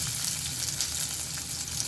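Steady, loud sizzling of garlic cloves frying in a hot pan, continuous crackle with no pauses.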